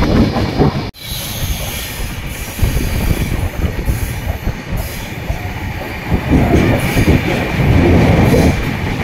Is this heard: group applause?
no